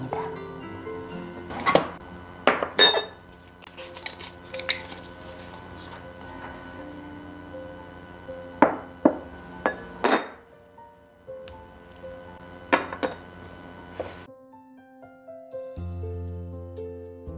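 A Le Creuset ceramic tea set is unboxed, its cups and dishes giving sharp clinks and knocks in scattered clusters, close and clear in a quiet room, with long pauses between.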